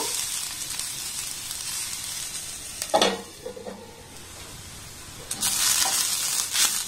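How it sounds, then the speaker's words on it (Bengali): Mixed vegetables fry in a pan, a steady soft sizzle broken by the clatter and scrape of a spoon stirring them, close and alone. "দেখুন সবজিটাকে আমি একটু হালকা করে ভালোভাবে নাড়াচাড়া করে ভেজে নিয়েছি"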